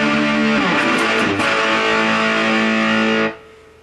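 A heavily distorted electric guitar chord rings out loud and sustained, shifting briefly, then cuts off abruptly near the end.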